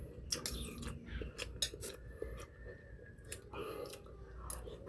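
A cleaned squid is sliced with a knife or scissors during home cooking. Several crisp cutting clicks and snips come in an irregular rhythm, close and fairly quiet, with no speech.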